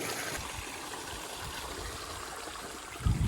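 A creek on a Nicaraguan farm runs over rocks with a continuous close rush and gurgle, ending in a short low thump.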